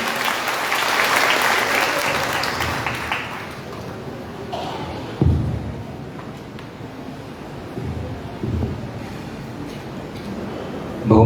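Audience applause welcoming a candidate at a BJP women's wing (Mahila Morcha) political rally in Kerala, loud and sustained at first, then thinning into scattered clapping and crowd noise with brief louder bursts.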